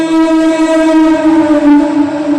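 A loud, sustained train horn with steady layered harmonic tones blares close by for a couple of seconds at Khardah railway station.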